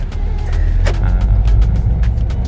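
Volvo V40 D3 with automatic gearbox, 2019 Momentum trim, pulling away: steady low engine rumble and road noise throughout, fairly loud and continuous with faint clicks on top.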